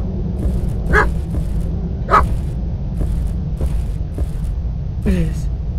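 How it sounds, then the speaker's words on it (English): A dog in the horror video game Stay Out Of The House barks in short sharp bursts, three or four clear barks with a whimpery yip at the end, over a low ambient game drone. "This is the killer's dog!"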